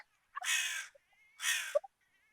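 A voice imitates crows cawing: two loud, drawn-out harsh caws about a second apart, each followed by short clicking throat sounds, with no other noise around them.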